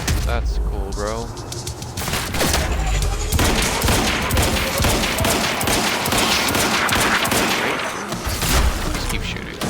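Sustained automatic gunfire in the video game Quantum Break, loud, rapid bursts and a fusillade of shots with booms, while a player talks over it at points.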